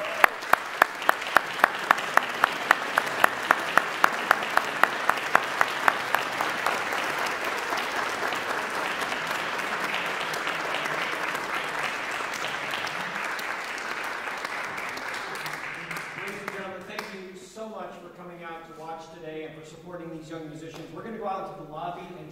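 An audience at a concerto competition finals applauds the oboe winner. Sparse, distinct claps build quickly into dense, sustained applause, which fades out near the end as a voice and music take over.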